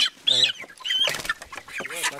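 A hen clucks and squawks in a coop, close and fairly loud, in short bursts with some background noise between calls.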